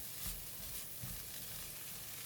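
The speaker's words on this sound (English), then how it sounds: "With the heat from the corn kernels, the butter should melt really fast." Corn kernels stirred with melting butter and salt, a faint steady sizzle and soft scraping with no talk.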